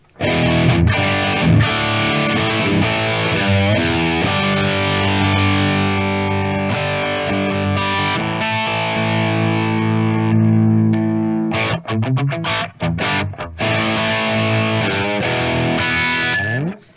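An electric guitar played through a POD 2.0 modeller with custom impulse responses gives a loud distorted tone: sustained chords ring out, then break into choppy, staccato stabs with brief gaps near the end.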